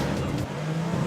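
Porsche 911 on studded tyres drifting on ice, the engine droning loud and close with a brief dip in revs, over a short continuous stretch.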